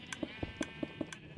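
Sheep in the Minecraft video game bleat in a quick, even series of short synthetic calls, several animals overlapping at moderate volume with a steady tonal hum beneath, as they are sheared on a hardcore-mode farm.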